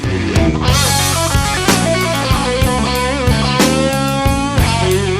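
A lively blues electric guitar lick with bent notes and punchy, rhythmic phrasing over a steady groove, played loud and close.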